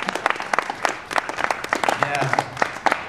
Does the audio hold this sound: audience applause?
yes